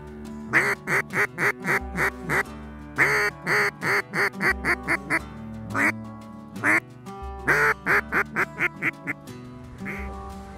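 Mallard ducks quack in rapid, rhythmic bursts of several calls each, loud and close, repeating across the whole stretch during a waterfowl hunt in Saskatchewan.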